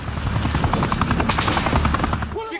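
Military helicopters approaching, their rotors beating in a loud, rapid, pulsing thump with a droning engine whine, close and continuous, with no talking over it.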